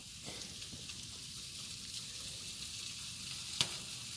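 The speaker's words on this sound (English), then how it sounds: "you hear the popping and the sizzling" Grease sizzles and crackles steadily on a hot infrared grill, with a sharp pop near the end.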